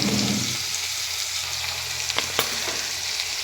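Mustard seeds, green chillies, tomato and onion frying in a pan, a steady loud sizzling hiss close up, with a few sharp clicks of stirring and no voices.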